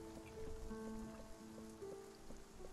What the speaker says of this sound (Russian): Раннее утро с дождичком.